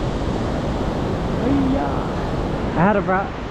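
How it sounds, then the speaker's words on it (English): Steady broadband roar of a waterfall in the mountains near Sapa, loud and continuous, with a voice speaking briefly over it near the end. "It is too noisy, it's just because of the waterfall."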